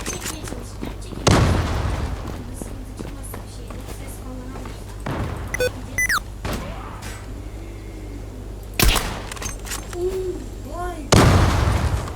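Bomb explosions in the Zula shooter game: several heavy booms and bursts at intervals, loud and close, between stretches of gameplay noise with voices talking.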